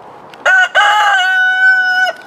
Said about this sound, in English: Rooster will let you know though,